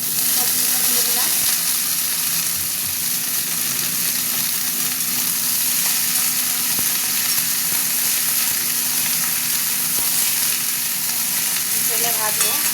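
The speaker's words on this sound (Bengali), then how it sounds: "পেঁয়াজটা একটু আধ ভাজা হয়েছে, দিয়ে দিলাম" Half-fried onions and mixed vegetables for a curry sizzle steadily in hot oil, a dense, continuous crackling hiss that stays loud and close throughout, with occasional faint stirring scrapes and no voice.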